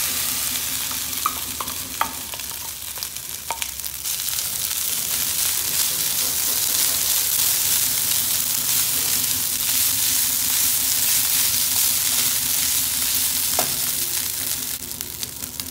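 Cooked rice stir-frying in a pan with ginger, garlic and onion, a loud, steady close sizzle with a few spoon clinks early on and continuous stirring throughout.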